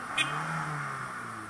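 A car engine hums steadily as the driver gives it gas, a close, moderately loud drone with a slight lift in pitch and no speech over it.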